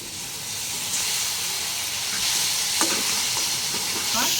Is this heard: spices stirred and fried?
yes